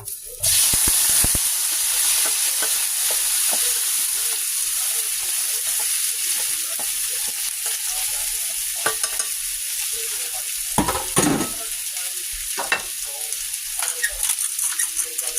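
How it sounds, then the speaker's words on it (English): Potatoes fry in a hot pan at home, a loud steady sizzle bursting in at once and holding throughout, with occasional clinks and stirring scrapes of a utensil. "So this got to heat up before I throw those potatoes in."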